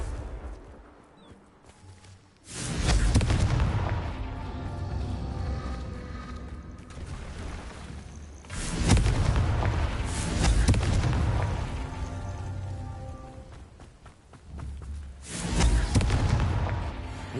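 Confringo fire spells burst into explosions in the Hogwarts Legacy video game, during the Merlin trials. Three loud booming blasts come several seconds apart, and each fades into a crackling, rumbling tail.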